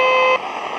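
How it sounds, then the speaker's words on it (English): A radio receiver buzzes from interference generated by its own microprocessor while tuned near the low end of the AM dial, giving a steady, loud electronic tone that drops to a rougher, noisier hiss partway through. "This radio picks up its own microprocessor."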